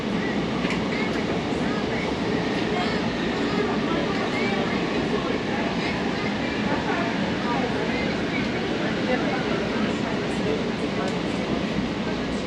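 Steady rumble of an airport Sky Train running throughout, with rolling rattles and people talking faintly in the background.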